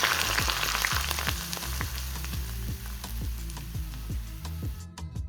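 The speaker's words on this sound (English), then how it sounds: "As soon as we see that shimmering and almost smoking, it's time to take it off the heat and onto the tare." Hot neutral and sesame oil sizzles as it hits ramen tare in a bowl, a bright crackling fry with rhythmic popping ticks that gradually calms, close and alone.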